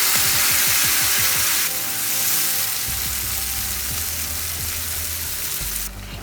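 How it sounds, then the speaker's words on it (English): Masala paste sautéing in oil in a pan, after whole cloves, green cardamom, cinnamon and cumin seeds: a loud, dense, continuous sizzle close by, with a low steady hum underneath. "Saute it till the oil separates."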